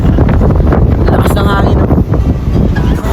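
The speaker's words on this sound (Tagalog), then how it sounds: "ang lakas ng hangin" Loud, gusty wind on the coast at Dingalan, Aurora batters the microphone in a continuous roar, with the faint swish of water and waves in the background.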